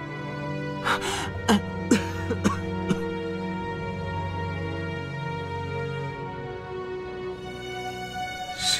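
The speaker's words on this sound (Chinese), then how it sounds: "我只是不想让你的咳嗽声引来他们。" A character coughs in the video game Xuan-Yuan Sword: The Gate of Firmament, giving about five short, harsh bursts in the first three seconds over steady background music, followed by quieter breathy sounds.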